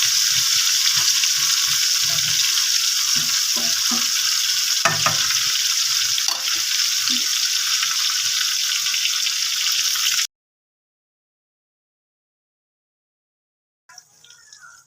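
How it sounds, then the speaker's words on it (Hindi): Eggplant pieces fry in a pan for a masala baingan dish, a loud, continuous sizzle with a few soft stirring knocks for about ten seconds. The sound then cuts to silence, and a brief faint noise follows at the end. "पहले एक तरफ से इसे अच्छी तरीके से फ्राई करेंगे।"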